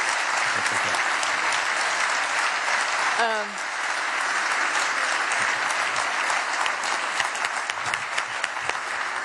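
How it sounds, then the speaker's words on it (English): Warm audience applause at the Innovation Convention 2011 in Brussels, following a talk by someone of Google: a sustained, even wash of clapping from a large hall. "So let's give him a warm round of applause."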